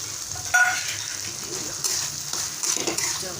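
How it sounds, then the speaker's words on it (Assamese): Ginger, garlic and chili paste sizzling in a hot pan as it is stirred, steady frying hiss with a few scraping stirs, close and moderately loud, no talk. "অকণমান লাৰি দিম আৰু কেঁচা গোন্ধটো যোৱালৈকে ভাজি ল'ম"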